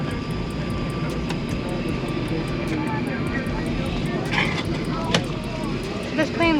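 Steady broadband roar inside an airliner cabin seated over the wing in flight, a constant engine and air rush with faint voices and small clicks on top.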